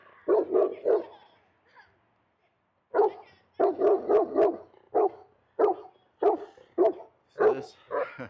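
Excited dog barking in repeated bursts, loud and close, with short gaps between volleys of several barks.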